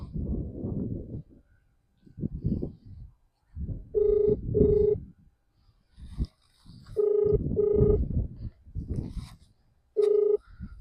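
A phone call is being placed from a farm field: a repeating ringback tone sounds in short bursts, interrupted by nearby muffled rustling and handling noise, with no clear speech.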